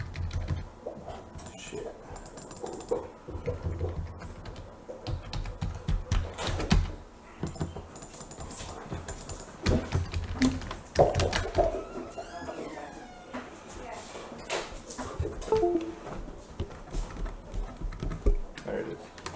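Fingers typing a title into a computer keyboard, bursts of rapid key clatter with brief pauses, heard close while people talk casually over it now and then.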